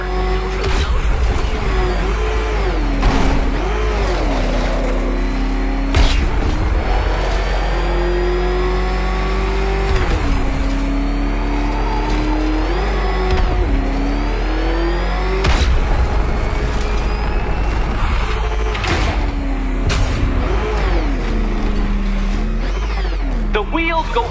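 The Batmobile in Batman Arkham Knight roars loudly as it accelerates, its engine pitch rising and falling in repeated revving sweeps with occasional tire squeals, while a voice speaks over it.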